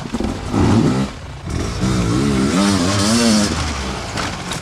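Graham Jarvis rides an enduro motorcycle at a riding clinic, the engine loud and close with continuous rising and falling revs as the throttle is worked through a slow technical section.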